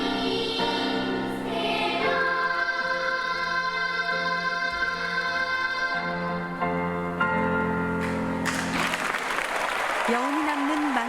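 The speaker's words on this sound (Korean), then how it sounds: "무대를 향한 박수갈채가 쏟아집니다" Audience applause after a stage performance swells into a broad wash in the last few seconds, rising over sustained music and voices that dominate the earlier part.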